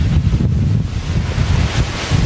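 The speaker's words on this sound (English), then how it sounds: "you start to hear the wind flying through pieces of metal and stuff" Hurricane Irma wind roars loudly and continuously in Florida, buffeting the microphone with a dense, rumbling rush that carries a thin whistle from gusts passing through loose pieces of metal.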